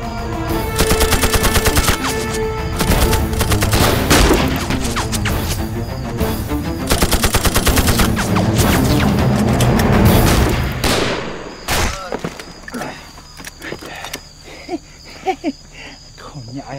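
Sustained machine-gun bursts and rifle shots ring out during a battle in an anti-Japanese war film, loud and dense, with rapid rattling fire and booms that give way to scattered single shots and quieter action.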